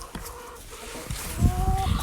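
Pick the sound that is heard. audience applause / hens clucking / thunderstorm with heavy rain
hens clucking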